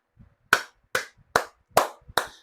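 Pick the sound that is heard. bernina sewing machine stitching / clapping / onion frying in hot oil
clapping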